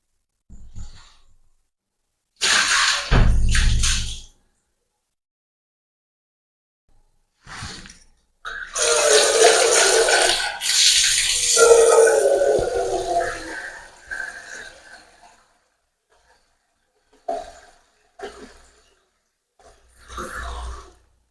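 Rinse water is dumped out of a container after washing N95 masks, heard as several separate bursts of splashing and gushing, the longest lasting a few seconds, with quiet gaps between them.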